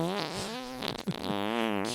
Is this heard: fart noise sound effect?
yes